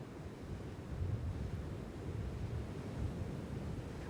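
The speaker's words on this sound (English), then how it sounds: "They build and break quickly at the shoreline." Ocean waves break quickly at the shoreline of a steeply sloping beach, a continuous rushing wash of surf with low rumbling surges, heard steadily throughout with some wind buffeting and no voices.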